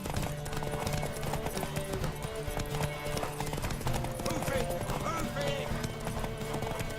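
Galloping horse hooves in The Witcher 3: Wild Hunt, a continuous fast clip-clop rhythm under orchestral game music, with a faint whinny and some voices mixed in.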